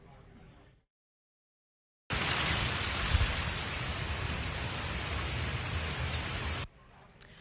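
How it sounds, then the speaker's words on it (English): Heavy rain and gusty wind lash the Sarasota area as Hurricane Milton approaches, a dense, steady roar of noise that runs loud for several seconds, with faint quieter ambience before and after. "We are now seeing gusty winds, high surf, and rain in areas like Sarasota"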